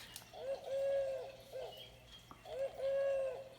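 Two repeated hooting bird calls from an electronic children's book, like an owl, each a short rising-and-falling phrase with a pause between, thin and slightly electronic-sounding, fairly quiet.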